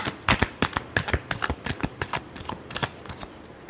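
Tarot cards are shuffled in quick riffling bursts, a close, crisp flurry of rapid papery snaps that thins out toward the end, with no talking.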